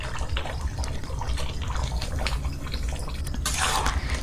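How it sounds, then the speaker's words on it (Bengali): Kewra water and rose water poured from a pot lid into chicken biryani as it cooks, with a soft liquid splash over a steady low kitchen rumble and a brighter hiss near the end. "এই যে ঢাকনিতে করে আমি এক ঢাকনি মতো কেওড়া জল আর এক ঢাকনি মতো গোলাপ"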